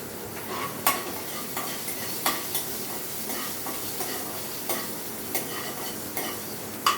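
Cumin seeds and green chillies sizzle steadily in a pan of hot oil, with a constant frying hiss broken by occasional sharp clicks of a spoon stirring against the pan.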